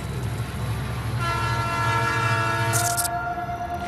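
A train rumbles along heavily as its loud horn blares in a long, steady blast, with a brief sharp squeal near the end.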